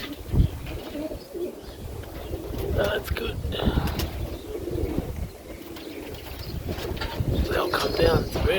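Serbian Highflyer pigeons coo in low, repeated murmurs amid gusty wind outdoors, with someone talking briefly over the birds and occasional scrapes and taps nearby.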